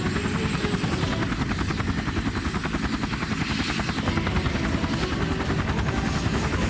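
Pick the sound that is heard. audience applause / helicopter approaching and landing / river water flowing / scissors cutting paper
helicopter approaching and landing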